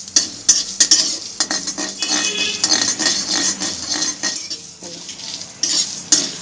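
Coriander and other whole spices fry lightly over low heat while a metal spoon stirs and scrapes the pan in quick, loud bursts over a soft sizzle.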